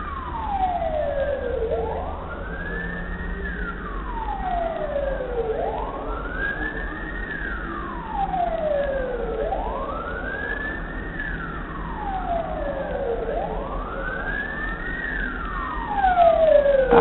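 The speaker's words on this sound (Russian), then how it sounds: "это уже с другой стороны опять едет скорая" An ambulance siren wails in slow rising and falling sweeps, four full cycles over steady traffic rumble near the scene of a bus accident, moderately loud and without speech.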